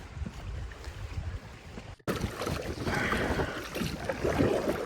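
A boat is paddled toward Ryan Island at Isle Royale: wind rushes over the microphone and water washes around the hull, with a slight break partway, then continues steadily.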